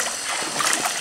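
Water splashes and sloshes steadily around a wooden canoe as it is pulled and pushed up to a riverbank. The wash is close, dense and continuous, with no talk.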